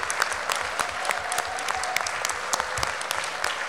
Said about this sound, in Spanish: que les tributemos un fuerte aplauso por su dedicación, empeño y amor por los detalles en el montaje de este evento.